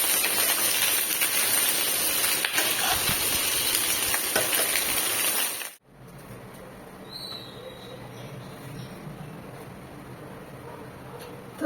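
Chopped jute leaf fritters frying in hot oil make a steady, dense sizzling hiss for about six seconds, then it cuts to much quieter background.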